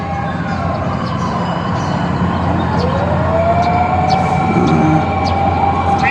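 Fire trucks answering a fire sound their sirens, a wailing tone that rises and sweeps over a steady rumble of street noise, sustained throughout at moderate distance.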